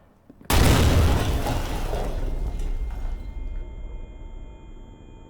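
A single gunshot or grenade blast erupts loudly in the horror game Amnesia: The Bunker, set in a WWI bunker. It hits with a sharp onset, then a long rumbling roar decays slowly, and a thin high ringing tone lingers toward the end.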